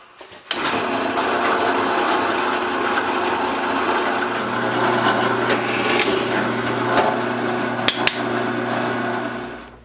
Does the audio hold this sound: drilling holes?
yes